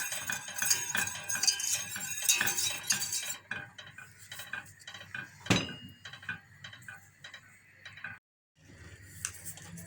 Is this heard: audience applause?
no